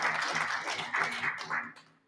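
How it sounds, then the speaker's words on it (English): An audience at a treaty conference claps in a short burst of applause, fairly close and moderately loud, swelling in waves before trailing off after about two seconds. "let's give them a round of applause"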